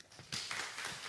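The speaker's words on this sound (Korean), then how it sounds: "박수 한번 하겠습니다" An audience in a church Bible-college lecture hall breaks into quiet applause, a faint, dense wash of clapping that starts abruptly and continues evenly to the end.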